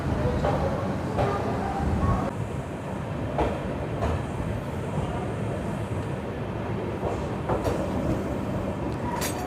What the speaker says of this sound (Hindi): तो रेल फ्रेंड्स, यहाँ पर हमारी ट्रेन पीलीभीत जंक्शन से डिपार्ट कर चुकी है।